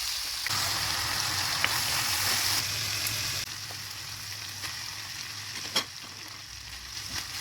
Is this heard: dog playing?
no